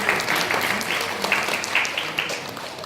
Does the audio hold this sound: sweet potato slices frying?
no